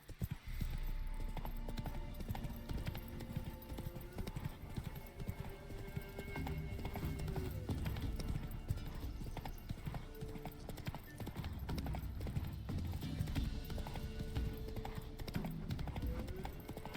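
Hoofbeats from the horse Roach in The Witcher 3: Wild Hunt sound as a steady clip-clop on the road, with a whinny and faint game music underneath.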